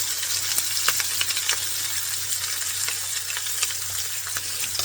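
Semolina-crusted fish pieces fry in hot oil, giving a constant close-up sizzle with sharp spatters and pops throughout, and no voices.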